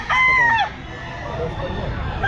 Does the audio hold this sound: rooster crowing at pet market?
yes